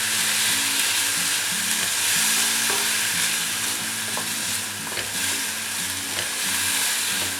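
Boiled chickpeas and onion stir-frying in a pan, a steady close sizzle with a spatula scraping and stirring through it, no voices.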